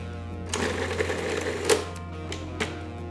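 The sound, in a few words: food processor pulsing serranos, shallots, scallions and garlic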